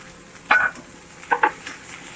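Chicken BBQ vegetables and cabbage are sautéed in a pan, with two quick clattering stirs against the pan over a faint background sizzle.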